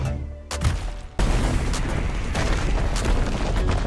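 Heavy cannons on a hover tank in a video game fire in a loud rapid barrage, booming blasts coming one after another with rumbling low-end and crackling impacts, no voices over them.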